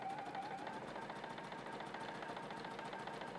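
A sewing machine runs steadily, stitching a quilt seam with a 1/4 inch allowance on a poinsettia quilt, a continuous close mechanical hum and whir without pauses or talk.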